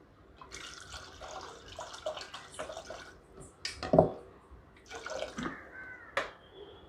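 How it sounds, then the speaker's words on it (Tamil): Water poured from a tumbler into a pressure cooker holding toor dal and pumpkin for sambar, a few splashing bursts with pauses, close and fairly quiet with no talk. "இதோட ஒரு டம்ளர் தண்ணி சேர்த்துக்கலாம்."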